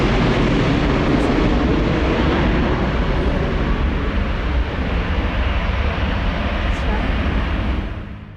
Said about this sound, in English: we are standing before Madeira Airport watching the planes taking off